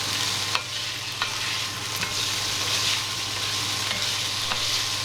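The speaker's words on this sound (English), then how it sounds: "Mix it all in and start stirring it." Chopped streaky bacon fries in a pot, giving a steady low sizzle while a spoon stirs it, with several light scrapes and knocks against the pot at irregular intervals.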